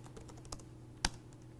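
Quiet keystrokes on a computer keyboard as a command is typed, a few faint soft taps and one sharper click, with no voices.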